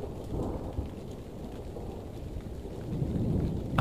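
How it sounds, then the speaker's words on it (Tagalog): Heavy rain pours steadily and without pause around a small hut, a dense, even hiss of falling water over a low rumble, with no voices. "Ang ulan ay tila walang katapusan"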